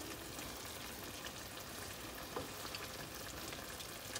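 Stuffed brinjals sizzle and fry steadily in a pan after being flipped, a dense, even crackle with faint pops throughout.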